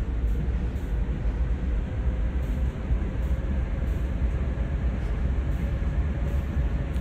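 A CSX heavy-haul freight train in Train Sim World starting to roll, a steady dense rumble of wagons and wheels with faint rhythmic clicks above it, no talking.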